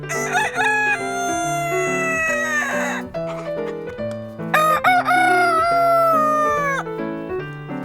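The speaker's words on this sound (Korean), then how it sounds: "마당의 만년 가수 암탉도 기상한 아침" A rooster crows loudly twice in a row, each long, strained call rising and then trailing off, close by with no talking.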